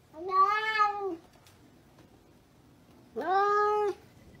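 A cat meows twice, each a clear drawn-out call of about a second, close and fairly loud, separated by a quiet pause of nearly two seconds.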